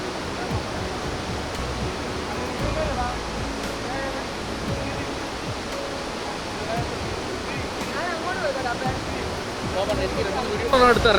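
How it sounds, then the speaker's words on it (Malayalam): A forest waterfall pours over large rocks with a steady, dense roar of rushing water. It holds at an even, loud level throughout and swells slightly at the end. "വലിയ പാറക്കെട്ടുകൾക്ക് മുകളിൽ കൂടി ആർത്തള്ളിച്ചു വരുന്ന വെള്ളവും"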